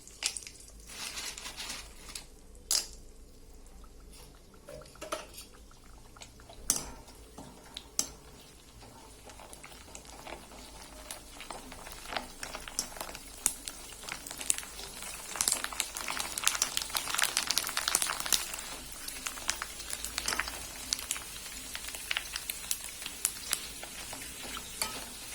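Fuchka (panipuri) puffs fry in hot oil in a wok, a dense, constant sizzle that swells louder partway through, with scattered scraping and stirring clicks and no talking.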